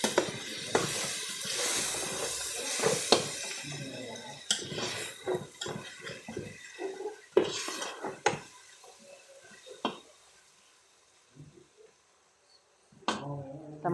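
A utensil scrapes and clatters against a pan while boiled beef and macaroni are stirred together, with busy metallic mixing at first, then thinning out into sparse knocks and scrapes, with some background voice.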